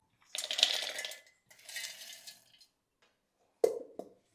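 Cashews, almonds, pistachios and edible gum tipped into a mixer jar, heard as two rattling pours of hard nuts close by, followed by a pause and a couple of sharp knocks.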